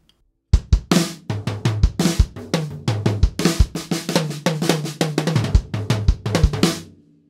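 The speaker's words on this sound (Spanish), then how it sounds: "Voy a convertir esta batería, que es mi primera batería, una Pearl Rhythm Traveler que me regaló mi abuelo y que suena así." An acoustic Pearl Rhythm Traveler drum kit plays a lively groove up close: punchy kick and snare hits, resonant toms and bright cymbal splashes in a steady rhythm, loud and alone with no voices.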